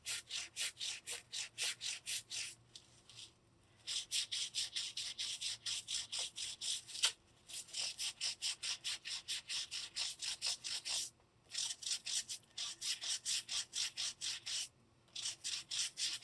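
Repeated rubbing strokes against a painted ornament while paint is worked off, a steady back-and-forth scrubbing rhythm with a few short pauses, close and fairly quiet, with no talking.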